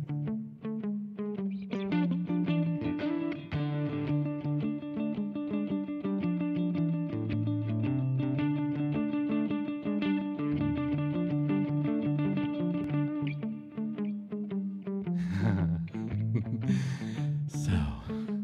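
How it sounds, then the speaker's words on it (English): Electric guitar played through reverb and delay effects, sustained chords and notes with repeating echoes layered over each other, ringing continuously before a brighter, busier passage near the end. "Now I'm going to try and get the reverb, the delay to hit every four triplets."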